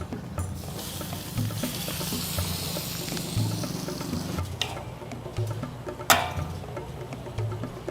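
Horse meat marinated in salt and vinegar sautés in a pan with a continuous sizzling hiss that fades partway through, followed by a few sharp clinks and splashes as the cooking continues.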